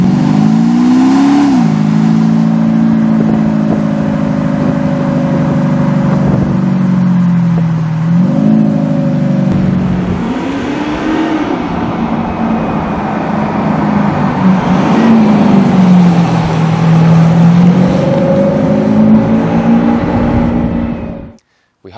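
Car fitted with a Kufatec Sound Booster playing a custom engine sound profile while driving on the road, loud synthetic engine note rising and falling with repeated revving and gear changes, close and continuous.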